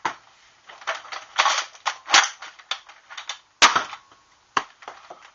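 A Huntsman 50 spring-powered blaster dry firing with no air restrictor, giving crisp, loud snapping clicks and clacks of the spring mechanism, repeated in an irregular burst close to the microphone.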